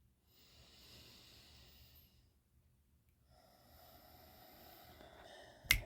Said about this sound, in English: breathing in again